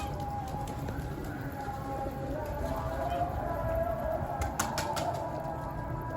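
Arap çapar pigeons flap their wings inside a closed loft at dusk, a steady rustling flutter over continuous background noise, with someone talking throughout.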